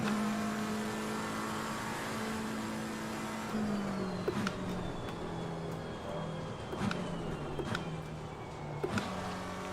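A race car in Assetto Corsa Competizione accelerating hard, a steady engine drone climbing through the revs with quick upshifts, joined by whirring tones and brief clicks, loud and close.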